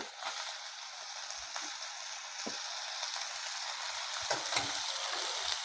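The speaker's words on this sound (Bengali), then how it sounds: "এবারে দিয়ে দেবো কেটে রাখা টমেটো।" Chopped tomato tossed into hot spices in a pan for a winter vetki fish, bean and cauliflower dish, giving a steady moderate sizzle with a few faint stirring scrapes and no talk.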